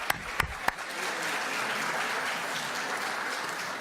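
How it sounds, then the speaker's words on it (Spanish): A few sharp, isolated claps quickly swell into sustained, steady applause from members seated in a chamber of deputies during a parliamentary session. "Un aplauso especial."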